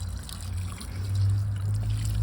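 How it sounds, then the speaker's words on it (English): Water trickles steadily onto a single-trunk plant, a soft continuous pour heard close up over a low background hum, with no talking. "Just water your single trunk."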